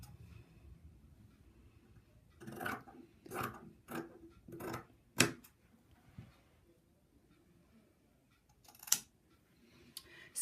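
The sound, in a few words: scissors cutting blanket fabric armhole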